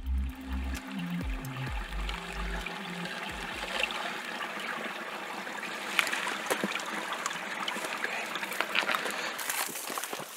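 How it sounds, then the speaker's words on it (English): Running water from a small stream on a Himalayan trail, a continuous trickling and gurgling that stays steady and fairly close, with low rumbling handling noise early on. "Ah, running water."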